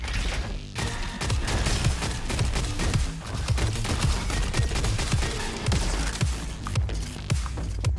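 Rapid weapon fire in the Roboquest video game, with dense overlapping shots and mechanical clatter running continuously and loudly throughout, without any talking.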